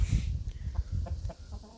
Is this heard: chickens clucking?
yes